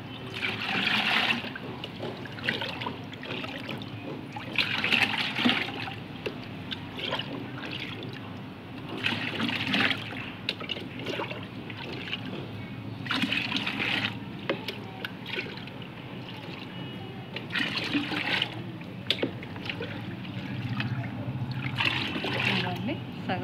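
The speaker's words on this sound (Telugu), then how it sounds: "ఈ సగం ఇందులో పోసుకుందామండి, ఎందుకంటే మనకి 2 బకెట్లు ఫుల్ అవ్వాలి కదా." Water pours and splashes steadily into a container for a long stretch, with a few louder gushes and a voice speaking now and then over it.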